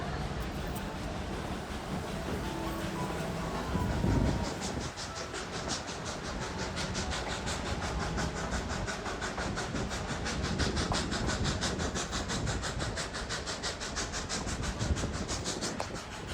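A steam engine on the Durango and Silverton narrow gauge railroad works hard up a grade, giving a steady, dense rumble with rapid rhythmic chuffing and rail clatter throughout, close and continuous.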